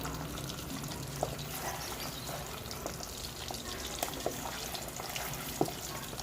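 Chicharon bulaklak, pork intestine, deep-frying in hot oil, a steady dense sizzle with scattered small pops and splatters throughout, fairly close and even in level.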